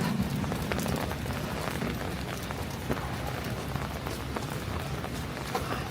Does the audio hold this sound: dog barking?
no